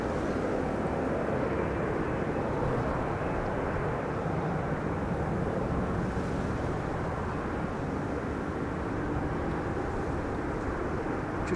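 An Airbus A321neo arrives on runway 27 at Schiphol, the Buitenveldertbaan, with a continuous, loud broadband jet roar that holds steady throughout and has no talk over it.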